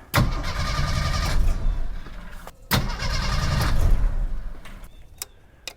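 An old, long-neglected Jeep engine with a carburetor and a stubborn open choke cranks hard in two long, loud bursts, churning without firing, then stops; a few faint clicks follow.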